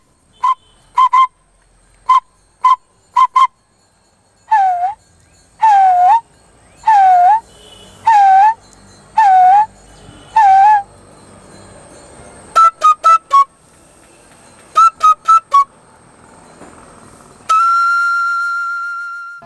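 Sumoi, a Tripura folk bamboo flute, imitating bird calls: a run of short repeated whistled notes, then swooping chirps, then more clipped pips ending on a sustained tone, clear and close with no other sound.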